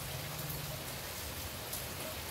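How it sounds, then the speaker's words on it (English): Rain falls steadily outdoors as a constant, even hiss of drops, with no voices over it. "I'm gonna play in the rain with you guys"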